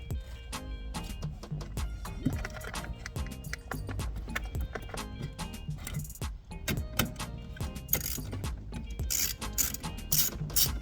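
Bolts tightened with a ratchet during a double USB port install in a 2022 Honda Civic Hatchback Sport: steady, close rapid ratcheting clicks and mechanical clatter that continue throughout.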